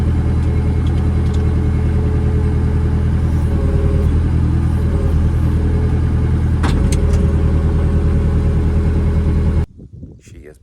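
A farm tractor with nearly bald tyres drives along, its engine producing a steady, loud low rumble that continues throughout before cutting off abruptly near the end, followed by brief quieter handling noises.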